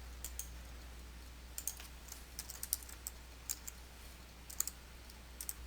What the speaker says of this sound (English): type an address into the Address field